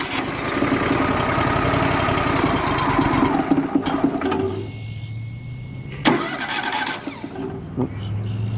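A WoodMizer LT35HD sawmill engine starts on a cold morning and settles into a loud, steady idle close by. Its pitch drops and the rumble eases as it runs, with a few clanks partway through.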